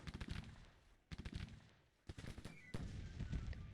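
Troop gunfire in the Grand Tactician: The Civil War video game, faint crackling volleys in several bursts with short gaps between them.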